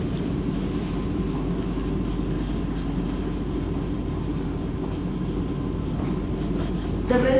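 Vande Bharat Express 26652 pulling into Thrissur station, heard from inside the Executive Class coach as a steady low rumble of wheels on rail, with a brief louder burst near the end.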